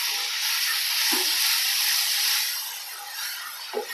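Tomatoes sizzle while sautéing in oil for bottle gourd gravy, a loud, continuous frying hiss that eases slightly toward the end, with two soft spoon taps against the pan.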